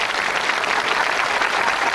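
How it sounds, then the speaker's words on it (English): A television game-show studio audience applauds contestants: a dense, steady wash of many hands clapping at full volume for about two seconds. "So give them a round of applause, please, ladies and gentlemen."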